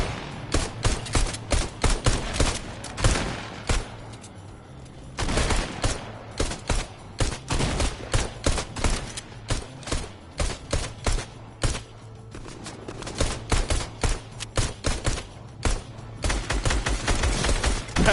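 Rapid bursts of gunfire from the video game Apex Legends, loud and near, firing in dense volleys with short pauses between strings of shots throughout.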